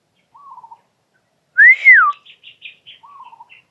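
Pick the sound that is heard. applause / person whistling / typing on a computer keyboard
person whistling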